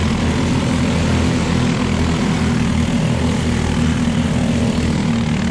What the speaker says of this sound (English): I can hear the rev limiter hitting hard.